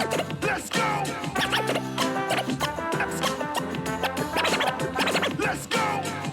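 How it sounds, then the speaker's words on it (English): Simulated scratch effects from a DJ controller's Scratch Cutter feature chopped over a playing dance track, with rapid stuttering cuts and rhythmic bursts, loud and continuous without talk. "it allows you to sort of simulate scratchy sounds like this."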